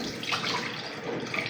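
Boiled liver is rinsed under running water, a steady close rush of pouring and splashing water that continues evenly throughout.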